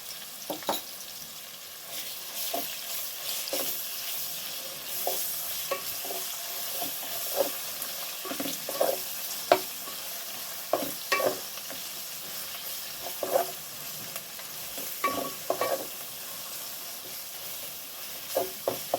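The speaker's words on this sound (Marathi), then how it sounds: "यामध्ये आलं लसूण पेस्ट घालून घेऊया" Ginger-garlic paste sizzles in a pan for vegetable biryani, a soft continuous hiss broken again and again by scraping and clattering strokes of a spoon stirring through the paste.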